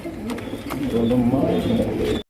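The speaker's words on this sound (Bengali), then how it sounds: "একদম বিগ সাইজ মার্শাল ইউ শেপের কবুতর দেখেন" Big U-shaped Marshall pigeons at a pigeon farm give low throaty coos, close and fairly loud, a continuous rolling murmur that stops abruptly at the end.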